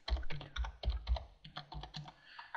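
Rapid typing on a computer keyboard, a close, steady run of crisp keystrokes with small pauses between bursts, heard alone without talk.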